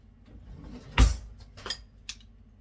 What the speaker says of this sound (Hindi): चमची निकालूं